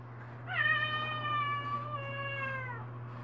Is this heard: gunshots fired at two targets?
no